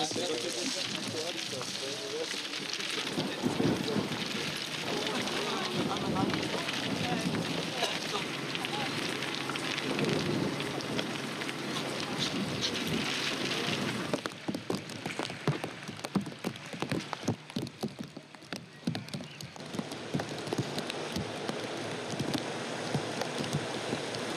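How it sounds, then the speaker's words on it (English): Heavy rain pours steadily outdoors at a film shoot in New Zealand, a dense close hiss that continues the whole time, with patter on surfaces growing more distinct toward the end. "Oh God, it's raining."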